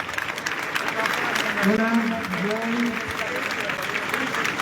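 Applause at a rally in València rolls along as a dense, steady wash of many hands clapping. Someone speaks over it partway through.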